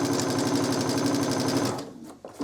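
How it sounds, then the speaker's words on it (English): A sewing machine runs steadily, stitching a second row of stitches along fabric piping with a fast, even whirring chatter close by, then it stops abruptly and leaves a short quiet tail. "I just stitch a second row of stitching along my piping."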